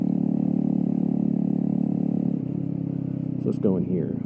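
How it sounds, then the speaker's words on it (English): A custom Kawasaki Z125 motorcycle idles with a steady, low engine rumble from its exhaust, and a voice speaks briefly near the end. "God, that exhaust sounds good."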